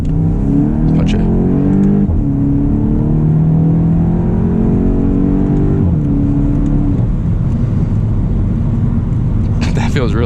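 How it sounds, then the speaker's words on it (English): A 2024 Volkswagen GTI MK8 with a DCT gearbox pulls hard in second gear from around 30, its engine note climbing steadily and loudly from inside the cabin, with a brief dip partway through. "Let's put it in second gear. Around 30 and then punch it."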